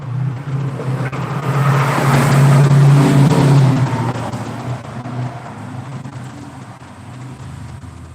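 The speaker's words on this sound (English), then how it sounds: "every car that ride past this fucking street" Cars pass along a city street, a low engine rumble swelling loud and close for a few seconds, then easing back into a steadier background hum of road traffic.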